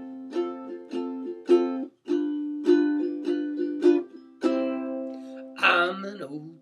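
A ukulele plays a strummed intro to a song in an even rhythm of ringing strums mixed with muted chunk strums, close and clear, with no voice.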